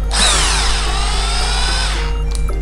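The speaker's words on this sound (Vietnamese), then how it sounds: "khoan vô nè" A Bosch 3-function 220V electric hand drill runs close by, its motor whine climbing in pitch and then holding steady for about two seconds before spinning down, with no voices.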